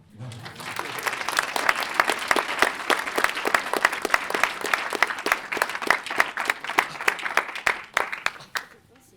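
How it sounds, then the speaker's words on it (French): Applause from the audience at a comics festival drawing duel, a thick steady wash of many hands clapping for about nine seconds before fading at the end, with voices faintly underneath. "pense qu'on peut les applaudir"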